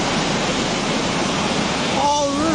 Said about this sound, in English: blending with the roar of the floodwaters